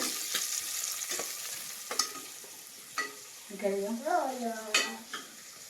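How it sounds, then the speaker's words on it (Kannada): Sliced onions fry in a pan for mutton curry, making a soft, continuous sizzle. Repeated clicks of a spatula stirring against the pan break through, and a brief hummed voice is heard partway through. "ಸ್ವಲ್ಪ ಕೆಂಪಗಾವ ರೀ ಉಳ್ಳಾಗಡ್ಡೆ ಫ್ರೈ ಆಗ್ಬೇಕು"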